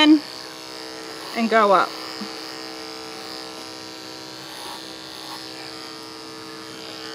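Electric clippers trimming a horse's tail, a steady close mechanical buzz humming throughout while a person speaks briefly over it.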